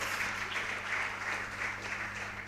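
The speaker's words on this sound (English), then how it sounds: "Shall we give them all a round of applause?" An audience at a junior high school contest applauds with a continuous, even patter of many hands, fairly soft and distant, holding steady for a couple of seconds.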